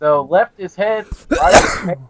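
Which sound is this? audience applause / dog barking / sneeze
sneeze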